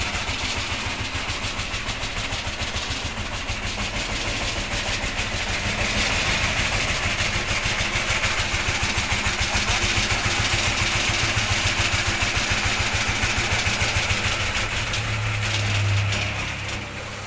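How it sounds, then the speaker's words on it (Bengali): A Changfa 1115 20 hp single-cylinder diesel engine runs steadily and loud close by, its dense rapid firing pulses continuous throughout with a slight rise in level midway. "এটা হচ্ছে চ্যাংফা কোম্পানি 1115 ইঞ্জিন"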